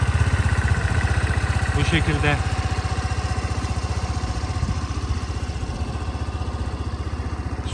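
A Kanuni Resa 125 scooter engine runs at a steady idle nearby, its regular low throb continuous throughout while someone speaks briefly over it.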